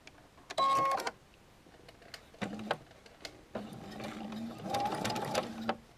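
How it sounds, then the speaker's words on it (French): A domestic sewing machine stitching the joint of a bias binding, with short bursts of rapid mechanical whirring and needle clatter separated by pauses, close and clear, no talking. "nous allons passer à la machine pour piquer le petit raccord. Voilà, maintenant nous allons piquer."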